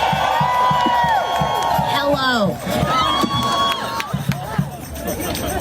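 A big, loud crowd cheers and whoops at a trans youth rally in New York City, with dense chatter and shouting voices throughout.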